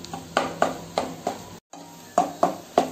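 A spatula scrapes and knocks against a pan in a steady rhythm of sharp strokes while egg and vegetables are stirred and fried, with a faint sizzle underneath.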